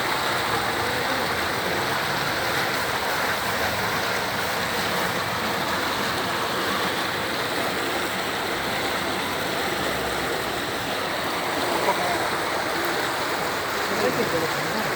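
Steady rush of water cascading down from higher ground in the rain, a dense continuous wash of noise that stays even and close throughout, with no break.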